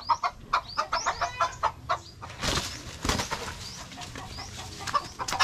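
A hen with her chicks gives a run of quick, steady clucks while chicks peep high and thin, then a burst of wing flapping and scuffling breaks in, all close and busy.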